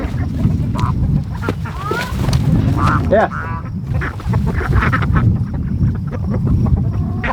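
Frightened ducks on a homestead quack and honk repeatedly in a busy, close chorus over a steady low background rumble, with a person briefly speaking.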